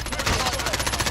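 Automatic weapon fire in the video game Fortnite, a steady rapid burst of shots, loud and close, with no pause.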